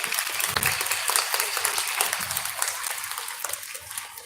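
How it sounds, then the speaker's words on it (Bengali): An audience at a government kindergarten's book distribution festival in Sylhet applauds Santa Claus, a dense burst of many hands clapping that fills the room and slowly tapers off toward the end. "আমরা সবাই হাততালি দেই সান্তা ক্লজ।"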